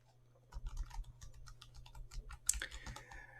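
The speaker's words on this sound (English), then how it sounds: "I'm just going to go ahead and type it all" An email address is typed quickly on a computer keyboard, giving a quiet, rapid patter of light keystrokes, close by and with no voices.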